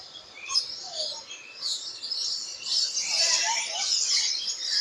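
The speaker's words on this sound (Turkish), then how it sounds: "Kuşlar konuyor, kafalarına konuyor, ellerine konuyor." Many small birds chirp and tweet together in a dense, overlapping chorus inside an aviary at a safari park zoo in Thailand, steady and fairly close, with occasional brighter calls rising above.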